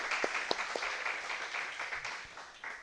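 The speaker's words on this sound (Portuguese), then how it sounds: "Vamos dar uma salva de palmas para Jesus agora?" A church congregation applauding together, a steady wash of many hands clapping at a moderate distance, with a few sharper individual claps standing out.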